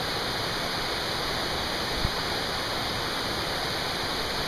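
Moose Creek Falls in the Great Smoky Mountains, a steady, loud rush of falling water with an even hiss, heard close and unbroken, with one faint tap partway through.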